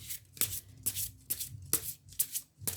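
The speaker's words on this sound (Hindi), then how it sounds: "एक बार और शफल कर लेते हैं।" A deck of tarot cards is riffled by hand in quick, close bursts, about six crisp fluttering shuffles evenly spaced with short pauses between them.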